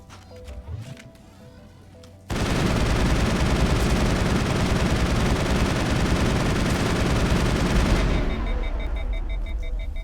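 Sustained rapid gunfire from a player's weapon in the Mass Effect video game erupts after a quiet start and continues loud and dense for about six seconds before cutting back to softer game ambience.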